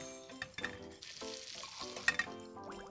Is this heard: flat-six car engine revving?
no